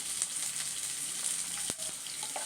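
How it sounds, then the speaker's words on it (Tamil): Chopped onions sizzle and crackle in hot oil for red poha upma, a steady, close frying hiss with a sharp pop or two and no voices. "வெங்காயம் பொடி பொடியாக கட் பண்ணி வச்சுக்கிறேன், அதையும் சேர்த்துக்கலாம்."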